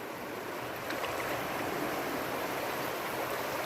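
Low river water flows in an outdoor setting, giving a steady broadband rush that stays even and moderately faint for the whole stretch, with no voices present.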